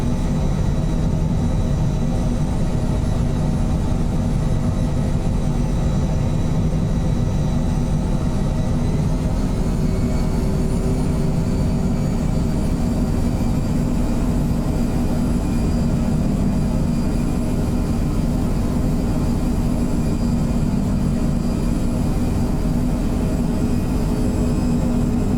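Steady jet engine roar of a Phenom 100 in MSFS 2024 on approach with flaps and power changes, a continuous loud low rumble with high whine tones that shift slightly in pitch, no talking.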